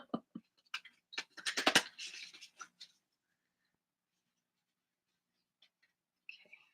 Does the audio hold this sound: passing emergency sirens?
no